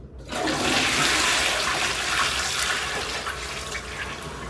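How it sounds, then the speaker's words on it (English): Toilet flushing while a bucket of water is poured into the bowl to clear a blockage, a loud close rush of water that surges quickly and then keeps draining steadily. "I'm going to flush, pour down at the same time."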